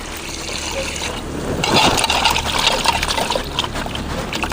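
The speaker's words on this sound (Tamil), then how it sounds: "இதை சுத்தமாக தண்ணி ஊற்றி அலசிக்கலாம்." Water poured over a handful of medicinal greens and tulsi to rinse them for herbal rasam, a close splashing trickle that grows fuller and louder after the first second.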